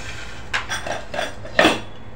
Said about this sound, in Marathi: आपण झाकण काढून घेणार आहोत.